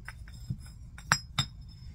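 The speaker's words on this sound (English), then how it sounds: "Then I found these glass mushrooms." Small glass mushroom decorations clink together in a handful of light, bright taps, a couple sharper than the rest, close by and quiet otherwise.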